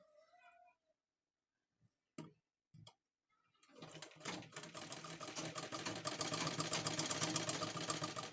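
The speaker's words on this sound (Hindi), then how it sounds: "ऐसे में और ऐसे में सिलाई करेंगे एल शेप में" A sewing machine stitches blouse fabric with a lining in an L shape. After a few sparse clicks it runs in a fast, steady, rhythmic whir that grows louder and continues to the end.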